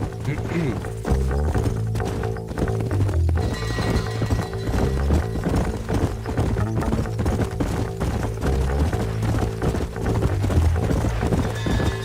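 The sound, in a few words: horses trotting in video game Red Dead Redemption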